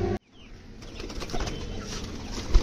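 Pigeons let out of their coop on a rooftop in the evening, with chickens also coming out, give a burst of flapping wings after a brief handling thud, then a busy rustle of wings and movement nearby.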